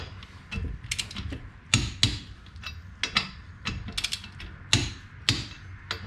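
A torque wrench clicks and ratchets sharply while tightening wheel bearing bolts on a 2011 Chevy Cruze, with irregular bursts of metallic clicks and clunks close up, no talking.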